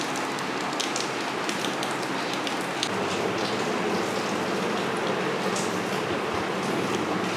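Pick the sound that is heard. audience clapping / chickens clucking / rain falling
rain falling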